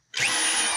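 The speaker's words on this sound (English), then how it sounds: "I've got the wrist breaker drill here." Power drill boring pilot holes in an 86 Dodge 4wd truck during a three-pedal conversion: a loud, steady motor whine that kicks in abruptly and runs continuously for under a second, with no talking.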